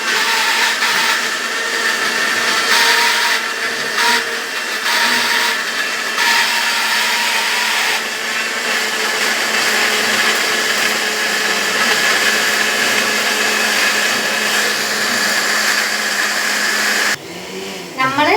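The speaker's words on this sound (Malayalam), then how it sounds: "അപ്പോൾ നമുക്കതൊന്ന് അടിച്ചെടുക്കാം മിക്സിയിൽ" A mixer grinder blends tender coconut with a loud, steady motor whine that runs nearly unbroken for about seventeen seconds before cutting off near the end.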